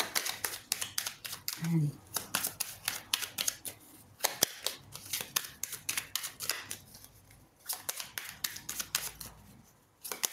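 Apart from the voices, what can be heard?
tarot cards being drawn and handled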